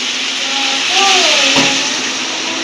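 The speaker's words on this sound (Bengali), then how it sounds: "এবার আমরা জল দিয়ে দেবো" Water is poured into hot, fried masala for an egg curry, producing a loud, steady rush of hiss and steam that lasts the whole stretch, with a short whistling tone rising and falling partway through.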